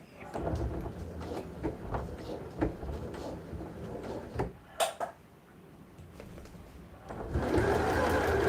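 Sewing machine stitching elastic onto a fabric side pouch, a steady close mechanical whir running through most of the stretch with a few brief knocks and a louder burst near the end.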